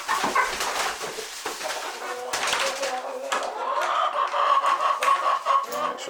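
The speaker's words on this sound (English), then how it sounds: "we have chickens now at the homestead" Chickens clucking at a homestead, a flurry of close, uneven clucks and soft calls, growing busier toward the end, with other background noises mixed in.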